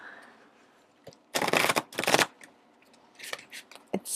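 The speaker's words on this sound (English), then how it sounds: "So bear with me as I shuffle it kind of badly." Two loud bursts of riffling come from a giant Harry Potter card deck being shuffled clumsily, with a few softer card flicks and taps after them. The sound is close and quiet between bursts.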